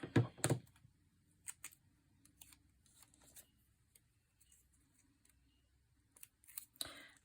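Scissors cutting paper for a junk journal craft, a few close, crisp snips at the start and end separated by quiet stretches with faint handling noises.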